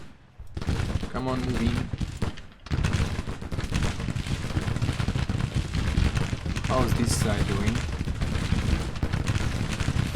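Massed musket volleys and cannon fire rumble through a Grand Tactician: The Civil War battle as troops fire on the enemy, a dense, continuous crackle of shots under a man giving short commands.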